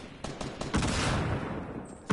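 Gunfire in a shooter video game: a rapid burst of loud, sharp shots that come in quick succession and trail into noise, with a final shot at the end.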